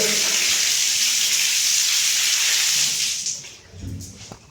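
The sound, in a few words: BLDC motor water pump running and pumping water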